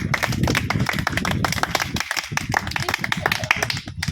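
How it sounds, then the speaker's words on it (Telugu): Audience applause at a lucky draw event, a dense burst of many hands clapping continuously at close range for several seconds, with faint voices mixed into the crowd. "ఒకసారి గట్టిగా క్లాప్స్ కొట్టండి"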